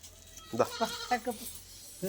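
Several short, wavering goat bleats close by in quick succession over a faint low hum, with a brief voice at the end.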